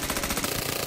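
M16 carbine rifle firing a rapid burst of automatic gunfire, dense and loud, sharp shots running together with no pauses across the whole short moment.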